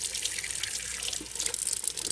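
Steady running water from a tap splashes over a guinea pig being rinsed of soap during a bath, a continuous close hiss with small splashy fluctuations and no talk.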